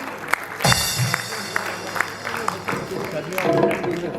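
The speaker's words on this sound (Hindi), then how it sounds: "सबकी तालियों की गूंज में बाबा याहिया साहब स्टेज पर तशरीफ ला रहे हैं।" Audience applause as a speaker comes on stage at a tribute event, moderate clapping from a crowd running under amplified voices and crowd noise in a reverberant hall.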